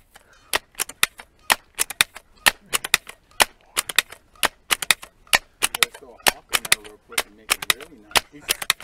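Sharp, loud shots from a Seneca Dragonfly MKII multi-pump air rifle fired at a 50-yard target, about two dozen rapid cracks in an uneven rhythm, with soft movement sounds and faint talk between them.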